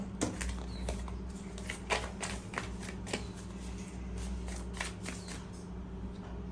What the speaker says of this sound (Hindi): Okay, I need one card at one time, so I have to shuffle again.